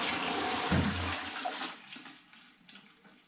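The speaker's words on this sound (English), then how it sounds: "Running water." Water running from a tap in a rural home, a loud steady hiss and splash that fades to a quieter trickle.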